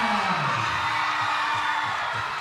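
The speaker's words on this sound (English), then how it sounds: "Listen to the crowd." A crowd at a sports medal ceremony cheers for a Samoa gold medal, a steady, loud wash of roaring voices and whoops sustained throughout.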